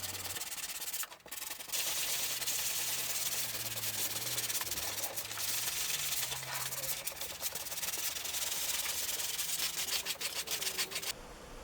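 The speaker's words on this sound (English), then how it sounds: "Then I sanded with 150 and 220 grits." Wood intarsia pieces hand sanded with fine-grit sandpaper, a steady continuous scratchy rubbing that runs close and fairly loud throughout with a brief dip near the start.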